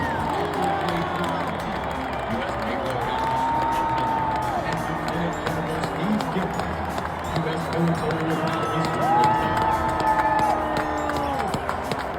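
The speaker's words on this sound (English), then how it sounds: "they can hear the roar of an Army Navy crowd" A large Army–Navy football game stadium crowd roars and cheers continuously, with shouts rising and falling over a dense, distant wash of voices.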